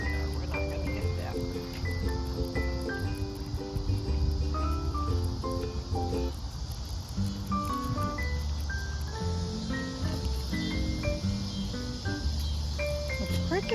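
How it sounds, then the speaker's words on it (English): Insects chirp in a constant high-pitched chorus, steady and dense, with other tonal sounds and faint background noise beneath. "The crickets or the katydids are really singing."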